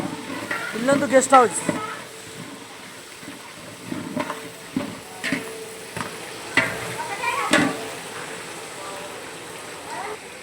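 Onions sizzle in a hot pan of oil with curry leaves during home-style Telugu cooking, with scattered frying crackles and stirring scrapes under a person talking throughout.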